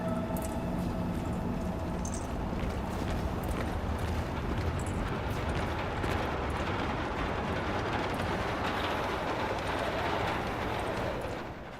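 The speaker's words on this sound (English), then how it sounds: "you can still hear the rain coming from the door" A steady, dense hiss of rainfall that fills the whole stretch evenly, with no voices and no breaks.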